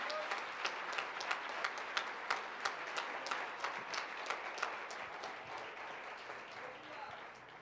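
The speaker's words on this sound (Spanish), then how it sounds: "Esas palmas son para Cristo, hermano." A church congregation applauds during a sermon. Quiet, fairly distant clapping from a group starts with a few accented claps and then settles into a softer, sustained patter.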